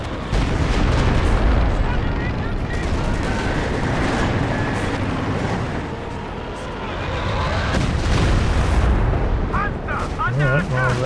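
Artillery bombardment pounding a headquarters in a Company of Heroes 2 multiplayer match, with rapid, overlapping booms and gunfire forming a dense, loud barrage while a voice talks over it.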